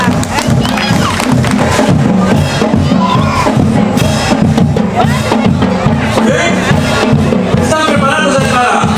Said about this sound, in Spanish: ¡Fuertes aplausos para estos chiquitines!